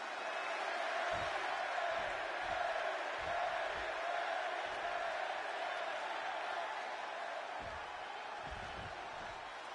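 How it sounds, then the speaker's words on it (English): Dense, continuous arena crowd roar in a WWE 2K26 wrestling match set in Chicago, a sustained wash of cheering with occasional low thuds beneath it. "just listen to this crowd here in Chicago"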